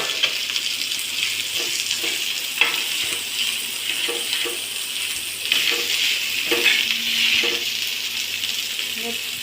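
Boiled potatoes tossed into a pan of frying onions for misal, giving a steady close sizzle with repeated clinks and scrapes of stirring throughout.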